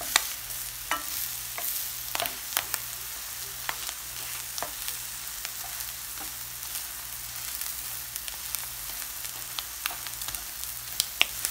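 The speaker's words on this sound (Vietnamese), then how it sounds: "Bây giờ chúng ta sẽ lật mì chúng ta nha." Egg fried noodles fry in a pan with a steady, soft sizzle and crackle, broken by scattered sharp ticks and clinks of stirring, heard close and alone with no talking.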